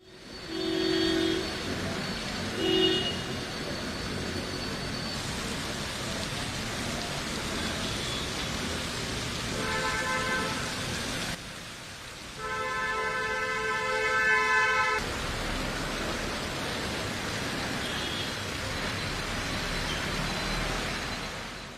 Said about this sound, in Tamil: கான்பூரில் தொடர்ந்து பெய்து வரும் கனமழையால் சாலைகள் குளமாகின.